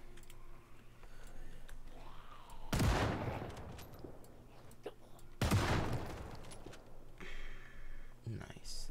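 Two loud bursts of sawed-off shotgun fire in the video game Project Zomboid, spaced a few seconds apart, each with a sharp blast and a decaying tail over quieter ambience.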